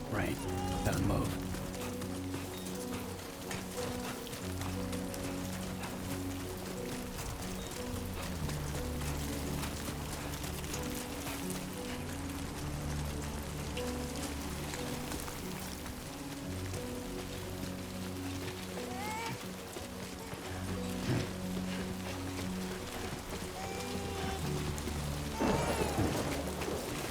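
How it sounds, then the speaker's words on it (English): Steady rain pours across a rugged outdoor landscape in Death Stranding 2, a constant dense hiss running the whole way under a low droning score, with a few sharper splashes and clatters near the end. "Great. Rain. Gotta move."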